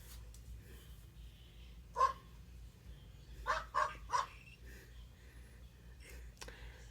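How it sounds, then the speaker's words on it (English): A dog barking: a few short distant barks, one isolated and then a quick cluster of three, faint over a low steady background hum. "I know what that is. That's a dog,"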